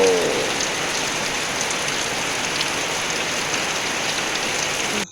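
Steady heavy rain patters on surfaces all around, a dense even hiss that holds throughout before cutting off abruptly at the end.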